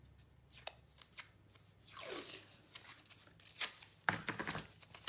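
Blue painter's tape torn from a roll in a few short, close rasping rips and crackles, with light handling noises between them on a quiet table.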